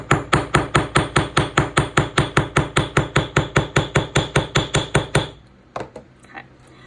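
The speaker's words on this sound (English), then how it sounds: "I'm going to take this hammer and I'm just going to hammer this side" A hammer strikes metal in a fast, even series of about thirty sharp taps, texturing the band of a beaded ring. The taps ring out close and loud, then stop, leaving a few faint handling knocks.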